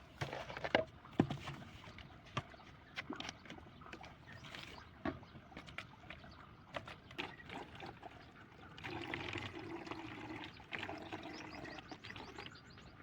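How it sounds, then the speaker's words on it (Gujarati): A plastic bottle is filled with water to make a bottle rocket, heard as a faint outdoor trickle and pour with scattered clicks and knocks, nearby and without talk. "હવે અમે પાણી ભરવી છીએ."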